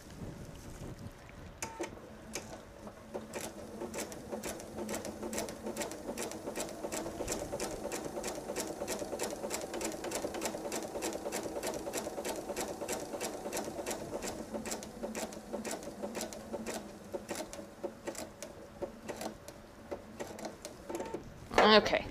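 A sewing machine stitches a patriotic nine patch table runner in one steady, rapid run of close, even stitches lasting about twenty seconds, then halts with a brief clatter at the very end.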